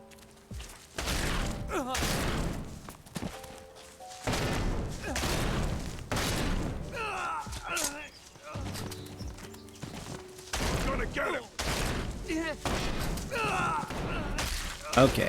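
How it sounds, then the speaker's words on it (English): Repeated loud bursts of gunfire in the video game ELEX 2, with a shotgun among the weapons, coming in clustered volleys with short pauses between them and a player talking between the shots. "Okay, who's shooting?"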